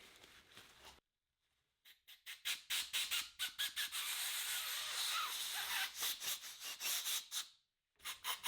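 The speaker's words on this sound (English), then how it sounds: "I'm gonna use some brake cleaner on this." Brake cleaner is sprayed onto rusty brake caliper pins in a series of close, sharp hissing spurts with short gaps, after a quiet pause near the start.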